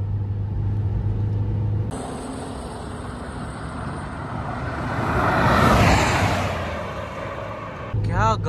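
Jeep Compass and XUV500 in a drag race, with a broad engine roar building to a loud surge around the middle before fading, over a steady low rumble.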